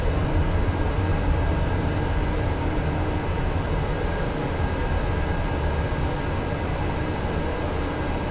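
An Aerosoft DHC-6 Twin Otter in MSFS 2024 powers up for takeoff on runway 20, its turboprop engines giving a loud, steady, unbroken drone with no voices.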